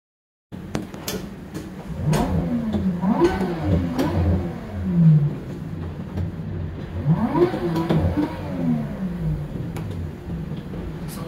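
In a racing simulator game, a Nissan Laurel with an RB20 engine revs up and down in repeated rising and falling sweeps, a steady loud engine drone lasting throughout with no talking.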